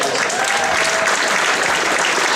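Sustained applause fills a gala night hall as the audience claps for a television personality, a loud, dense, even roar of many hands with no pauses.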